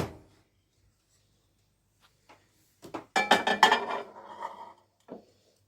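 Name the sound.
placing dish into microwave oven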